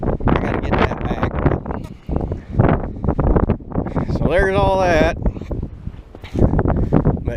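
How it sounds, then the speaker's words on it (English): Cold wind gusts across an outdoor microphone, rumbling steadily beneath someone talking throughout. "it's cold and it's windy"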